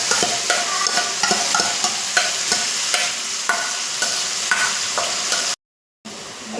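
Onion paste, ginger-garlic paste and spices sizzle in hot oil for chicken do pyaza, loud close frying with rhythmic scraping strokes of a stirring spoon, then a brief cut of silence near the end.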